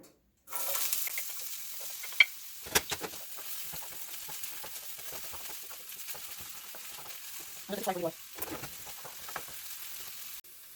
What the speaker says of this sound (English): So now that our oil is a bit warm, I'm gonna go ahead and put the onion.